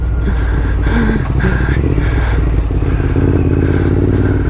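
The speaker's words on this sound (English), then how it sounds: "listen to that exhaust" Loud, steady rumble of a Triumph Thruxton RS motorcycle engine and exhaust, heard close up while riding, with some clatter and wind over it.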